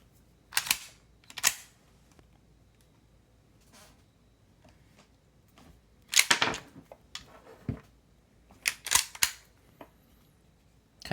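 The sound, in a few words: loading a handgun with a snap cap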